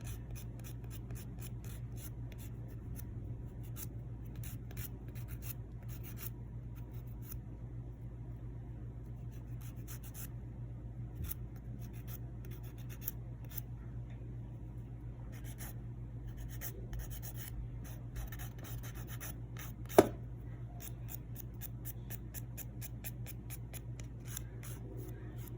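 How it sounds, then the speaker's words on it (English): Soft, rapid scratchy strokes come from lightly buffing press-on nails, repeating in short bursts over a quiet background with one brief louder knock. "See, like just lightly buffing."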